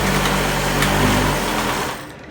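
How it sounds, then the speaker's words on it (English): Industrial sewing machine stitching very fast, a loud steady high-pitched motor whir close by that winds down at the end. "I hope you now know how to use an industrial sewing machine"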